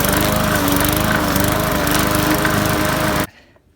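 Bolens Free mower engine runs loud and steady while cutting grass, a dense, continuous buzzing drone close by that cuts off abruptly near the end, leaving faint quiet.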